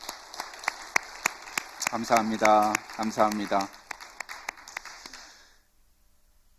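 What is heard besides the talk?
congregation applauding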